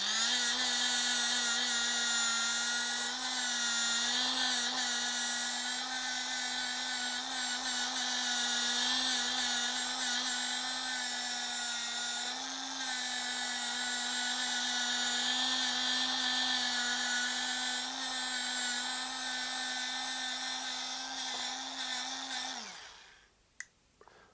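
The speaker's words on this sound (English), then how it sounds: "And that's why these small polishers come in handy." A small power polisher runs against the side of an electric guitar body, a steady high-pitched motor whine with a slight wavering pitch, held loud and close before it winds down and stops near the end.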